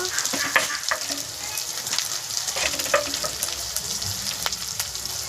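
Spices sizzle and fry in hot oil for village-style chicken curry, a steady crackling hiss with scattered pops and light stirring scrapes, close and continuous, no voices.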